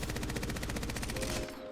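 Rapid automatic fire from a weapon in Apex Legends, a steady burst of evenly spaced shots rattling for over a second before cutting off into a short tail of echo.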